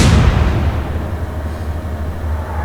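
Heavy naval gunfire in the World War II naval game Atlantic Fleet: one loud, deep boom at the start, then a long rumbling decay with no talk over it.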